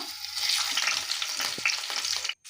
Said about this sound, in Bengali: আমি কিন্তু হালকা তেল দিয়েছি দিয়ে ঠিক আরও দু তিন মিনিটের জন্য মিডিয়াম টু লো হিটে ভেজে নেব